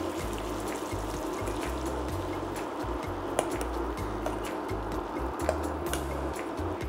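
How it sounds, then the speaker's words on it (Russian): Egg batter poured over apples in a frying pan for a skillet apple charlotte, a steady soft trickle and pour over a constant low hum, with no talking. "Выливаем яичную массу к яблокам."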